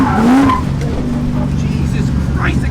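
A supercharged LS3 V8 in a BMW E36 runs hard on a dyno, a loud sustained engine roar with rising pitch at the start and a tire-like squeal, while a voice talks over it.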